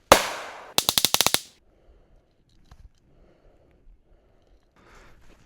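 .22 Long Rifle rounds fired at a tree: a burst of about six sharp, rapid, evenly spaced cracks, preceded by a loud broadband blast and followed by faint scattered knocks and a final crack at the end.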